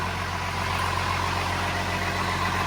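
A swapped-in DT360 engine idles steadily close by on its first start, an even low rumble with a faint rhythmic chug and no voices.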